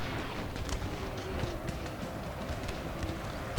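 Horses galloping into battle in Napoleon: Total War, a dense, steady rumble of hooves with clattering mixed through a loud, continuous battlefield din.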